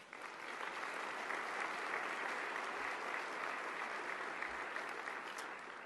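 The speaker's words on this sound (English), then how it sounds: "Let's give them a round of applause." A chamber of commerce annual meeting audience applauds former chamber chairmen, a steady, dense, moderately distant round of clapping filling the whole stretch without pause.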